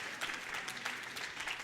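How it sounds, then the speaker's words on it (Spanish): Steady applause from a congregation at a church sermon, a dense wash of hand claps filling the whole moment without a break, fairly quiet and heard alone with no talking over it. "Gracias por esas palmas ahí."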